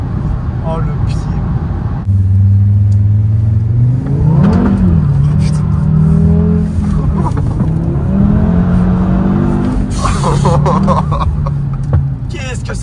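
An Audi TT RS quattro accelerates hard on a country road, its engine roaring loudly and climbing through revs with gear changes, while a voice talks over it.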